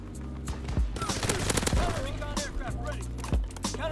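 Rapid-fire Orso in Call of Duty WW2: fast, dense volleys of shots rattle close and loud with brief breaks, over a busy game background.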